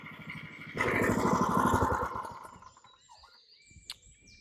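A plate compactor's small engine chugs loudly with a rapid throbbing pulse while compacting a base for paving tiles, then winds down and fades, leaving faint high whines and a clank.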